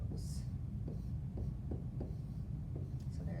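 A letter S being written by hand, a few faint, close scratchy strokes of a pen or marker on a quiet background, with light breathy voice sounds nearby.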